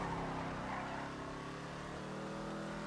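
Faint, steady car engine and road noise as the vehicle drives and slows into a corner, a continuous muffled hum without distinct braking sounds.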